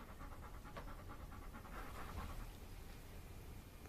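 Dog panting close by in quick rhythmic breaths, soft and steady indoors.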